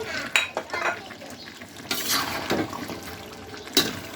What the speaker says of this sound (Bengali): এর মধ্যে নারকেলগুলো দিয়ে দিব যে নারকেলগুলো আমি পরিষ্কার করে কেটে ধুয়ে রেখেছিলাম সে নারকেলগুলো দিয়ে দিলাম